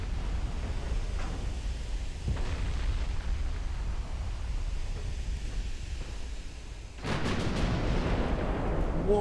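1910s British warship turret guns firing in a naval video game: a low rumbling ambience broken by a couple of dull booms, then a sudden loud, crackling blast near the end.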